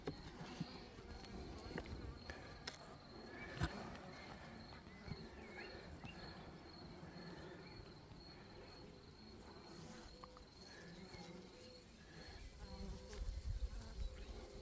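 Honeybees buzz steadily around an open hive during a Turkish beekeeper's frame inspection, a dense continuous drone with scattered nearby insect whines and faint handling knocks.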